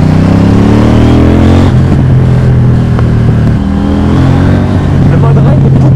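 A KTM Duke 790 motorcycle engine rumbles loudly and close, its pitch climbing and dropping as the throttle opens and eases, sustained throughout with a steady harmonic growl.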